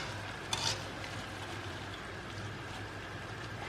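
Sweet diamond cuts frying in hot oil give a soft, steady sizzle with a faint bubbling hiss, a brief scrape of a utensil near the start, quiet and continuous throughout.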